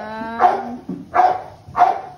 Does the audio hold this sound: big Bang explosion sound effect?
no